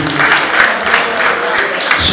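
Crowd applause at a Naija 102.7 FM Jersey Jump 2016 radio event, a steady dense wash of clapping with bright chirpy peaks, loud and continuous for about two seconds, with voices mixed faintly in the din.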